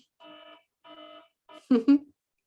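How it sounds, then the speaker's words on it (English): Three evenly spaced electronic beeps from a timer at a church diocesan convention, clear and fairly close, followed by a short burst of a voice talking. "That's the timer."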